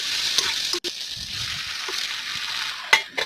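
Fresh spinach tipped into a hot pan of frying onion and tomato for a spinach gravy, giving a steady close sizzle with a few soft knocks and rustles as it lands.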